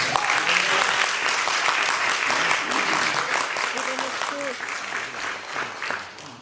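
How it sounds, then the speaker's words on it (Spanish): A church congregation claps loudly and steadily in a dense, close burst of applause that gradually thins out, with a voice speaking over it now and then. "¿Cuánto un aplauso fuerte a Dios por eso?"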